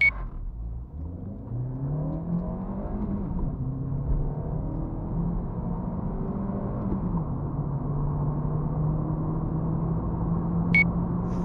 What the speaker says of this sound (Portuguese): Agora eu vou tentar fazer tipo um controle de largada para ele não cantar tanto pneu.